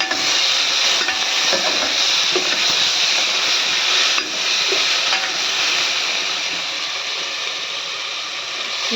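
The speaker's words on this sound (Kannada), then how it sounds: "ಚೆನ್ನಾಗಿ ಈರುಳ್ಳಿ ಫ್ರೈ ಮಾಡ್ಕೊಳ್ಳ ಟೊಮೆಟೊ ಹಾಕ್ಕೊಂಡೆ" Onions and tomato fry in a pan with a loud, close, steady sizzle and hiss, broken by faint clicks and scrapes of stirring. No one speaks.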